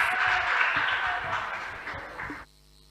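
Students and audience at a school debate between Lead British International School and Kings & Queens Academy give a brief burst of applause that fades and cuts off after about two and a half seconds, with some voices underneath.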